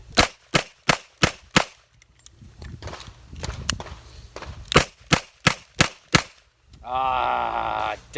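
Ruger GP100 revolver chambered in 10mm fires a string of sharp, loud shots in a steady rhythm, five close together, then a pause with muffled handling noise, five more, and finally a sustained tonal buzzing tone.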